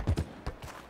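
Horse hooves clip-clop in a quick, uneven rhythm in Red Dead Redemption 2, several hollow clops in about a second, fairly close.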